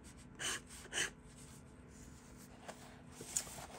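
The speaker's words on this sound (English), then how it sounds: "writing with an extra fine nib, writing nicely" A Conklin Mark Twain crescent-filler fountain pen with an extra fine steel nib scratches lightly across paper, two short quiet strokes followed by softer faint scribbles, close up with no talking.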